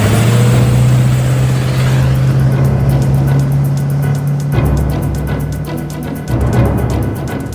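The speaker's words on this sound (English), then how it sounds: "Gentlemen, start your engine." A car engine running at a steady hum, then revving in quick rising bursts with a rapid pulsing note, loud and close, with no talk over it.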